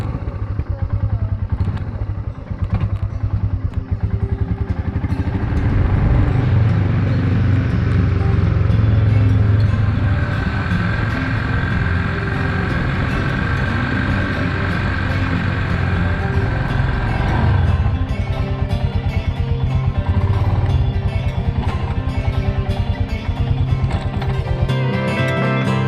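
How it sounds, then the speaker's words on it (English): A motorcycle engine drones steadily while riding through the Kullu Valley, a loud, rough low rumble with some clattering and thumps from the road, continuous throughout. "So we crank the engine and let the bike do all the work."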